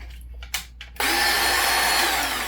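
Ryobi 5.5-inch circular saw, a used tool from a pallet lot, given a couple of short trigger blips and then spun up into a loud, steady high-pitched motor whine that runs on close by, with no one talking.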